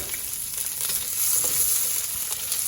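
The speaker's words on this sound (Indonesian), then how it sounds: "Ini bumbunya kita goreng. Kita goreng sampai dia itu kekuningan." Spice paste for gado-gado fries in a pan with a steady crackling sizzle and occasional stirring scrapes, close and continuous without any talk.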